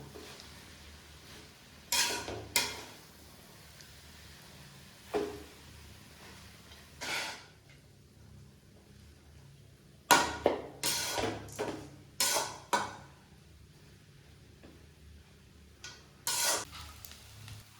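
A spoon stirs salt and chilli spice into sevai in a pan at home, giving sparse clusters of sharp scraping clinks against the metal with quiet gaps between bursts.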